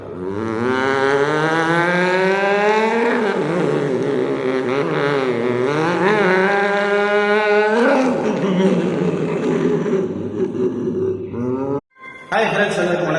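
A performer's voice imitates a race car, with rising and falling revving engine whines and gear-shift swoops, loud and close, ending in a brief pause and burst.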